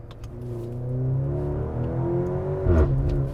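A Maserati Grecale Modena engine revs high toward redline with steady rising harmonics, then drops sharply with a brief burble as its 8-speed ZF automatic shifts gear, close and loud, no talking.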